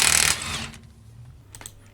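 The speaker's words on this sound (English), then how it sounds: "it's easier to use an impact wrench" Impact wrench loosening the axle bolt on an Acura TSX front axle: a loud, dense mechanical rattling burst lasting about a third of a second, then fading into quieter shop sounds with a brief later clatter.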